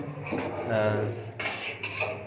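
Pots and metal utensils clatter and scrape while rice is fried for biryani in a home kitchen, steady moderate clinking with a faint background voice or music.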